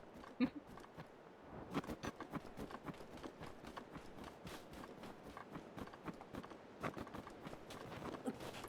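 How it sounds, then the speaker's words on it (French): Footsteps crunching through snow in The Legend of Zelda: Breath of the Wild, a steady run of soft crunchy steps at an even pace, close and moderately quiet. "Les bruits de pas dans la neige, je trouve ça satisfaisant."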